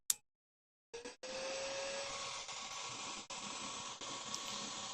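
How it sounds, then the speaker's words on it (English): A hair dryer switches on after a brief click and blows with a steady, loud whooshing hiss, close by. "Hit that with the hairdryer real quick."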